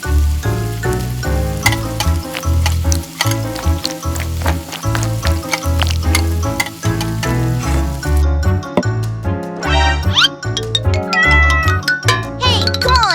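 Kittens meow repeatedly in short bursts over music in a miniature cooking setting, with some frying sizzle, loud and close.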